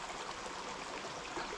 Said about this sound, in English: You just hear the trickling of water.